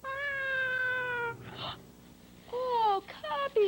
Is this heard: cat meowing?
yes